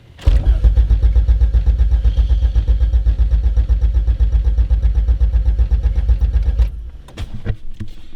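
A built Honda B18 engine in a Civic cranks steadily for several seconds, its starter churning with a fast even rhythm, but it never catches; the cranking stops and a few faint clicks and rustles follow.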